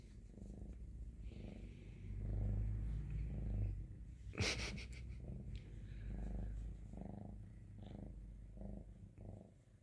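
A young ginger and white female kitten purrs softly and close, a quiet rhythmic rumble with breathy pulses that rise and fall steadily, and one brief sharp rustle partway through.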